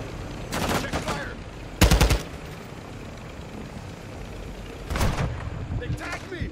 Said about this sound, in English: Oh, we're being sniped